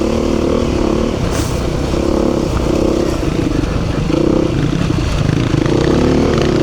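A Honda CRF 450 dirt bike is ridden through the Flinders Ranges, its engine growling loud and close throughout with continuous rumble and rattling clatter.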